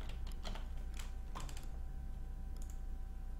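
Typing on a computer keyboard, a few quick bursts of faint key clicks separated by short pauses, with a low background hum and no talking.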